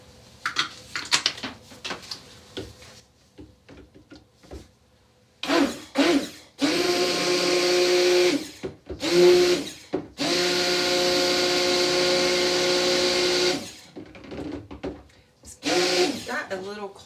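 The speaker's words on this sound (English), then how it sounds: "mix that with my stick blender for just a second." A stick blender mixes kaolin clay into soap batter in bursts, its motor whirring steadily for several seconds at a time with pauses between. A person talks during the gaps.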